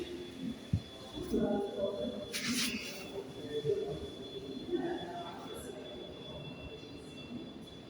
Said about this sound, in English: about to depart now is the 1609 ScotRail service from Groscaden to Edinburgh Waverley